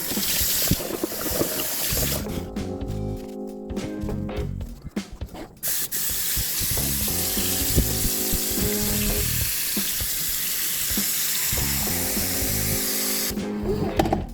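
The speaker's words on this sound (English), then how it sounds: "Then I'm going to fill the pot up with water" Tap water runs into a cooking pot on a kitchen stove, a steady hissing pour broken by pauses and bursts of clattering and splashing as the pot fills.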